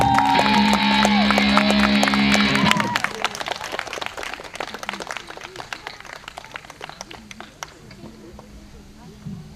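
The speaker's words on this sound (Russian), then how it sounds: "Аплодисменты!" Audience at a Laudato Si festival concert breaks into loud, dense applause after a band's performance, starting under the final music, then thinning into scattered claps and fading.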